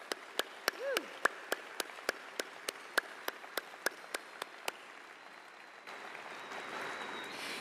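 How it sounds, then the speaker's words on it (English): Commencement audience at Smeal College of Business applauding graduates: a run of evenly spaced, sharp, loud claps that gives way to a softer, steady wash of crowd noise near the end. "Massive round of applause"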